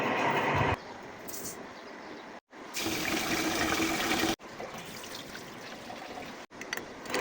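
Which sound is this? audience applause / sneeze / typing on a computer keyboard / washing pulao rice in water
washing pulao rice in water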